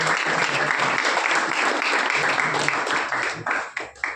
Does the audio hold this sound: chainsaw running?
no